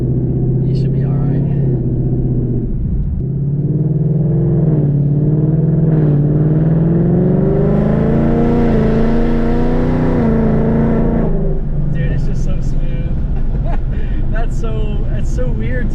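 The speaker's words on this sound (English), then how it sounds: "Smacking it in a Mustang with a loud exhaust and just it's shifting on its own so quick." Ford Mustang with a 10-speed automatic and Coyote engine running E85 accelerates hard, its loud exhaust droning and climbing through quick gear changes inside the car, with people talking over and around it.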